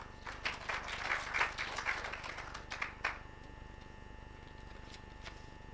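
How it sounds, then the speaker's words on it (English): An indoor audience claps at a corporate event for a speaker approaching the podium, a dense patter of applause for about three seconds that then fades to quiet room tone. "Please give a big round of applause."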